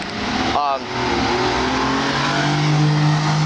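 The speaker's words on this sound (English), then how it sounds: "when loud cars go by" A loud car drives by on a street, its engine and tire roar swelling and holding close for several seconds, while a voice speaks briefly underneath near the start.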